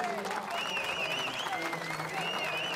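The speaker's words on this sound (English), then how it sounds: "They receive a very warm round of applause" Crowd applause at the 2017 DTM Spielberg podium ceremony for Audi, a steady wash of clapping throughout, with a commentator's voice and whistling tones over it.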